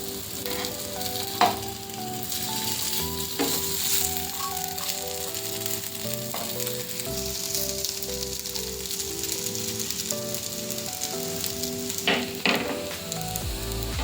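Potato patties frying crisp in oil in a pan, a continuous dense sizzle with occasional spatula scrapes and soft clicks, close and fairly loud with no talking.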